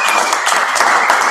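An audience at a Vegas business opportunity presentation claps, a short burst of dense, fairly loud applause filling the whole moment.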